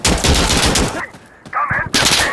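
Rapid automatic gunfire from Insurgency Sandstorm, loud and close, in dense bursts with a brief pause midway before the shooting resumes; a voice is briefly heard.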